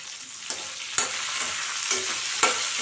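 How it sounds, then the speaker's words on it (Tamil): Pirandai (adamant creeper) sautéing in a pan with tamarind, coriander and curry leaves for a village-style thuvaiyal, a steady close sizzle broken by several sharp scrapes and clacks of a stirring spoon, with no talking. "இதெல்லாம் கலந்து நல்லா வதக்கிடுங்க"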